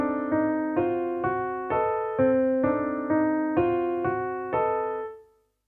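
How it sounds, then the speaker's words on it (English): Solo piano plays the accompaniment to Boulanger's Of A Sad Evening, a steady series of repeated chords struck about every half second, clear and close, fading out at the end. "On the piano, I'm going to play the music which accompanies the melody we heard before."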